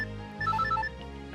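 A telephone at home rings with a bright electronic trill, a short burst of repeating high tones over a steady low background hum, loud and close, with no voices.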